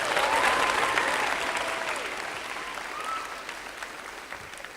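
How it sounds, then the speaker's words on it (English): A seated audience at a girls' empowerment event claps in a sustained round of applause, dense and even at first then gradually thinning, with a few faint voices in the crowd. "can we give them a round of applause?"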